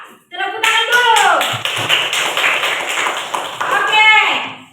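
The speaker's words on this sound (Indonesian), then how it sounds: "Tepuk tangan dulu." A class applauds a student group with sustained clapping from many hands, loud and dense for a few seconds, with a teacher's voice briefly speaking at the start and end.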